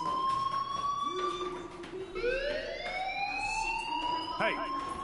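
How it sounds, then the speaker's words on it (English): Fire alarm from the game Life Is Strange: a sustained electronic tone with rising sweeps, heard steadily throughout beneath voices talking. "do you hear that fire alarm? That means you should be outside."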